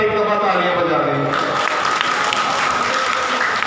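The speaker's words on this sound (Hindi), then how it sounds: "उनको खराज तहसीन पेश करने के लिए आप एक दफ़ा तालियां बजा दें" Audience applause at a 14 August commemorative gathering swells into a sustained, even wash of clapping, with talk heard at the start before the clapping takes over.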